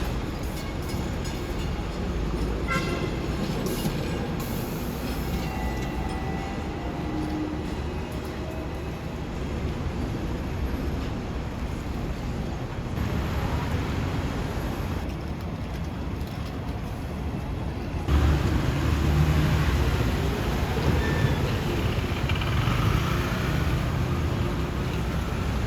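A Hong Kong double-decker tram rolls through busy street traffic, with a continuous rumble and roar of wheels and engines and a heavier surge toward the end, no talking heard.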